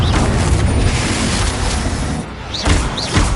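Loud booming blasts from the Confringo spell in Hogwarts Legacy, a dense rumbling explosion followed by two sharper magical bursts with rising whistles, close and forceful.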